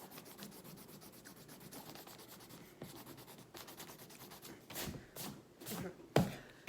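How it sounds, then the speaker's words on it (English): A pencil eraser rubbing across a handwritten word on paper, a steady run of quick scrubbing strokes close up that turn harder and scratchier near the end. "So now, I'm going to try to erase it."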